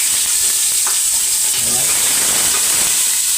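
Onion is dropped into a hot pan and sautés with a loud, continuous hissing sizzle close by, with light stirring.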